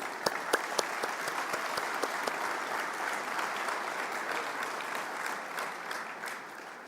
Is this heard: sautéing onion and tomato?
no